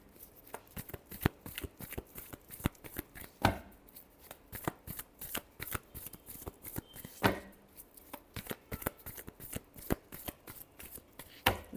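A deck of tarot cards is shuffled by hand in a quiet room: a steady, brisk run of close, crisp riffling slaps and taps that keeps going with no talking.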